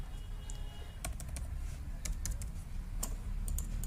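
Quick keystrokes on a computer keyboard as a mobile number is entered into an online school admission form, irregular clicks over a steady low background hum, close and fairly quiet.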